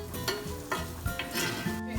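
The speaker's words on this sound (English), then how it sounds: "first we're going to put in our onions and get those sauteing" Onions saute in olive oil in a skillet with a soft close sizzle, broken by several quick stirring scrapes and clinks of a utensil against the pan over about two seconds.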